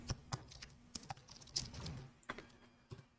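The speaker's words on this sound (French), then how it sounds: "je tape n'importe quoi" Random text typed on a computer keyboard: quick, irregular clusters of soft key clicks with brief pauses, close and fairly quiet, with no talking.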